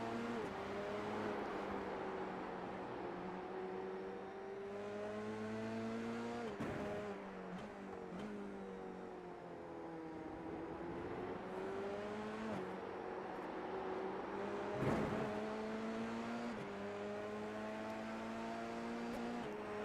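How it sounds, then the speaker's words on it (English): Dallara F3 race cars in a sim racing game at the Nurburgring, engines screaming through rising and falling gear changes, with several cars' tones overlapping and brief shifts or bumps breaking the steady, loud drone. "love listening into the beautiful sounds of these Dallara F3 cars"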